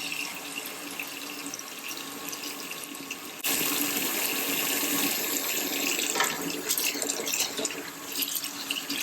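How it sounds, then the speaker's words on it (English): Tap water runs into a pot of red cabbage for eco dyeing, a steady close splashing stream that grows louder and fuller partway through as the flow increases, with no talking. "now fill it up with some water"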